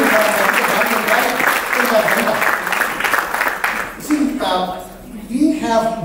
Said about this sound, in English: So that deserves a huge applause for you.